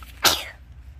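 One short sharp sneeze bursts out close by, a quick explosive breath that fades within half a second against a quiet room background.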